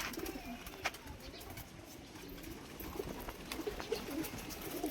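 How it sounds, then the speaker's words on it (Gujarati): Pigeons coo repeatedly at a moderate distance, soft rolling calls recurring through a steady hum of outdoor background noise. "જેવા જોઈએ એવા કબૂતર"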